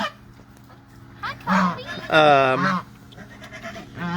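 Sheep bleating in a field, two or three loud, wavering calls close by in the middle of the stretch, with quieter background noise around them.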